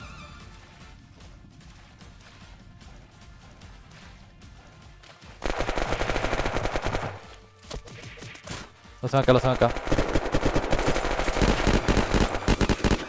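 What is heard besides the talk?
gunfire in a video game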